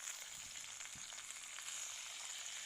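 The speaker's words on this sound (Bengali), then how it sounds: "ছোলা আর আমি বাদামটাকে ভালো করে ভেজে নিলাম।" Soaked chickpeas and peanuts fry in a pan, giving a faint, even hiss of sizzling oil with a soft stir or two, quiet and without speech.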